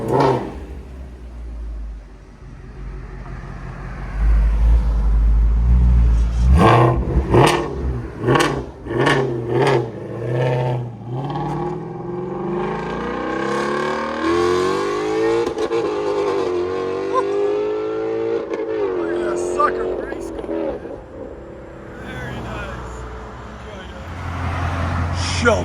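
A Ford Mustang Shelby GT350 with its 5.2L Voodoo V8 and X-pipe exhaust idles, fires off a burst of sharp blips, then revs in long rising and falling sweeps, loud and close, with someone talking over it.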